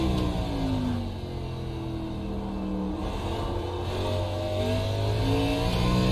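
Race car engine in iRacing at Circuit of the Americas, climbing steadily through the gears as the car accelerates hard off the final turn toward the start-finish line, with a loud, continuous, rising whine and no talking.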